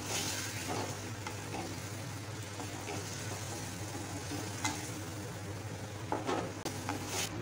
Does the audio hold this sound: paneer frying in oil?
yes